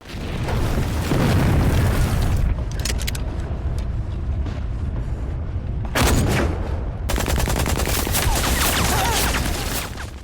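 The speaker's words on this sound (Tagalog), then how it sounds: "Gumanti ng matitinding putok ang mga tangke ng kalaban gamit ang kanilang malalakas na armas." Heavy booming tank cannon blasts, explosions and sharp cracks of gunfire burst out loudly over a dense rumbling din, in several violent clusters.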